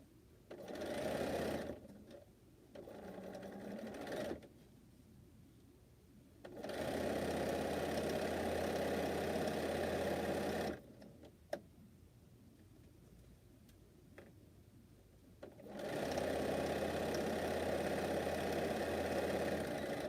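A quilter's sewing machine whirs steadily in several long runs separated by quiet pauses, with a single sharp tap during one lull, heard close in a room.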